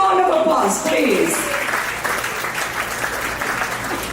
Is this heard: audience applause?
yes